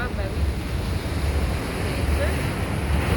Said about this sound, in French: Ça, c'est des vagues.